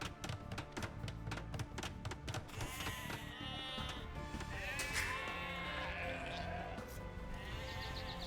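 Sheep in Age of Empires II bleat several times against the game's clicks, taps and ambient sounds, the wavering calls clear and fairly close.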